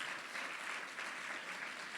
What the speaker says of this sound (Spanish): Dele un aplauso al Espíritu Santo de Dios